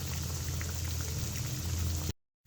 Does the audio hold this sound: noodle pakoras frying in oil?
yes